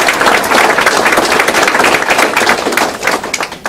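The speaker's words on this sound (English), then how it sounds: "they deserve a big round of applause" Loud, sustained applause from an audience at a senior athletic banquet, a continuous dense patter of clapping close by with no break.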